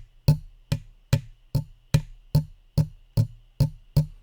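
A hand taps a table near a microphone with nine sharp, close knocks at a steady rate of about two per second. Quiet between taps apart from a low hum.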